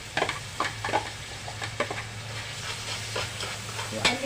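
Bell peppers hit hot oil with garlic in a pan, giving a steady frying sizzle with intermittent stirring scrapes and clatter, close and moderately loud.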